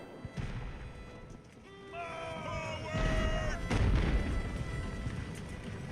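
Musket and cannon fire in Ultimate Admiral: Age of Sail, with booming shots and scattered crackling volleys under game music with sustained tones; heavier bursts come in the second half.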